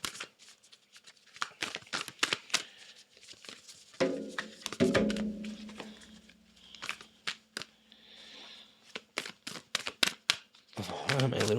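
Tarot cards are shuffled by hand in quiet bursts of crisp riffling and flicking clicks with short pauses between, close and soft, with a low voice murmuring briefly partway through.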